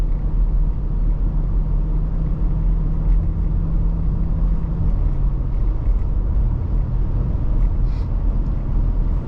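A 1999 Toyota Land Cruiser cruises along the road behind a Buick, its steady low engine and road rumble filling the cabin, with a slight drop in engine tone midway; no talking.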